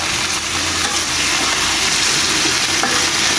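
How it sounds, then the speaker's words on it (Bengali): Onion and potato for bhaji fry in a hot pan with a loud, steady sizzle, close by, with occasional stirring scrapes through it. "এখানে দিয়ে ভাজি পেঁয়াজ আর আলুটা দিয়ে দিলাম"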